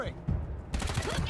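A short burst of gunfire in Wasteland 3: loud, rapid shots in quick succession that fill most of the moment, with a voice speaking alongside them.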